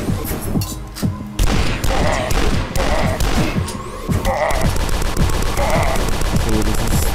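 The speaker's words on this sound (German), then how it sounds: "So, das ist mein neues Maschinengewehr hier." Machine gun fire in the retro shooter video game Dusk, loud rapid bursts of shots with booming impacts and clattering, continuous and close with no voices over it.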